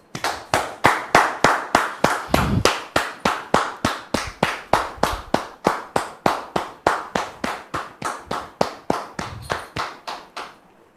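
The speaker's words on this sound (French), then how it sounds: "le pasteur Salomon, que je voudrais vous demander de recevoir maintenant sous vos applaudissements" An audience welcomes a pastor with loud rhythmic clapping in unison: about thirty crisp, heavy claps land on a steady beat roughly three per second and continue evenly throughout, with no talk.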